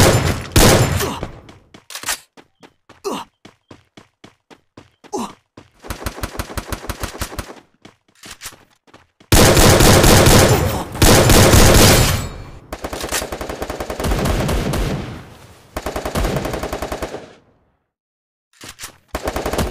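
Automatic and single gunfire from a Garena Free Fire solo-vs-squad battle royale match, with long dense bursts of rapid shots broken by short gaps and scattered single cracks, loud and up close.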